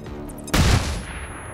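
A flashbang grenade goes off in heavily modded XCOM 2: War of the Chosen as one sharp, loud blast after a quiet moment, then a short ringing decay.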